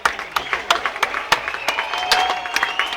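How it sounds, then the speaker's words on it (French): Applause from an audience at a fireworks display in Bienne: scattered, fairly close hand claps with a steady crowd murmur underneath. "Applaudissez pour moi, s'il vous plaît."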